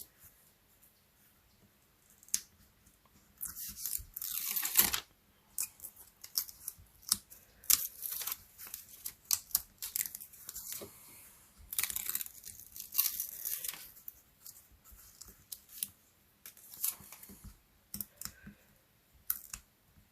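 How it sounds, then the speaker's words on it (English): Backing paper torn and peeled off a papercraft piece for gluing, with many close, crisp ripping and crackling bursts in an irregular rhythm, some long and loud, others short clicks, over a quiet background with no talking. "we're going to just tear the paper off"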